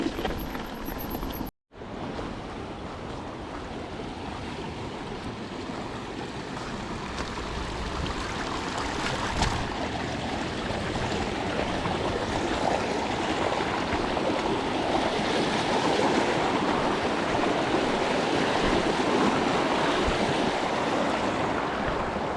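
Water running through a small ford at the bottom of an off-road gravel track near Orton, Shap and Borrowdale, a constant rushing stream wash that grows slightly fuller over time, with a brief dropout near the start.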